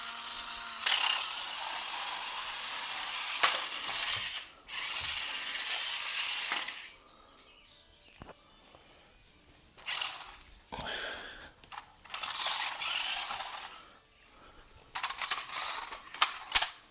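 ZURU Robo Alive King Python robotic snake toy running on a flat floor, its small motor mechanism whirring and clicking in uneven bursts separated by quiet pauses, faint and close.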